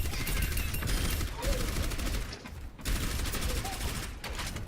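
Orisa's weapon in the hero shooter Overwatch, firing rapid sustained bursts of automatic gunfire with a few short pauses between volleys, loud and continuous throughout.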